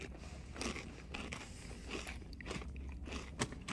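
Close, crisp crunching and chewing of caramel cheddar popcorn, repeated bites and munches in an uneven rhythm with no talking.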